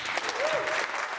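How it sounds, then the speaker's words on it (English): Sustained applause fills a legislative chamber for Ontario NDP leader Marit Stiles, the new opposition leader, as her first question period begins; dense, steady clapping from many members, with a faint voice briefly audible beneath. "Applause for Marit Stiles as she begins her first question period in the legislature as NDP leader."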